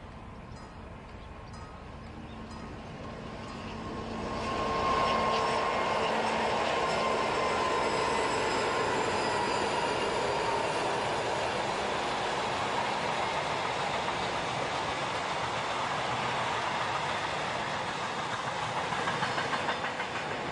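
Two Ludmilla diesel locomotives haul an armored train, their deep engine roar swelling as they approach and then holding a loud, sustained rumble with rolling rail noise for many seconds.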